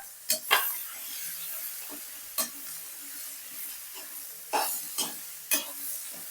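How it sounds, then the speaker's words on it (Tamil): Chopped onions sautéing in a pan for samosa filling: a steady hiss of frying runs under several sharp spatula scrapes and clinks against the pan, close by, with no talking. "நம்ம கட் பண்ணி வச்சிருக்க வெங்காயத்தை அதுல போட்டுக்கலாம் இப்ப அத வதக்கிக்கலாம்"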